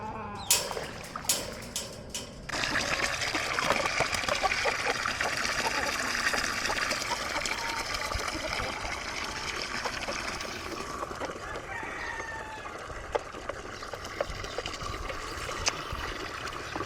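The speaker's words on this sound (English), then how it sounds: "I gotta dump it and rinse it out." Water is dumped and rinsed from an animal water container on a homestead: a brief splash and knocks, then a steady hiss of spraying and trickling water, fairly quiet and continuous.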